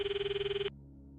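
Electronic phone ringtone in the visual novel game Steins;Gate 0, a loud, steady, rapidly pulsing tone lasting under a second before stopping abruptly, leaving a low background hum.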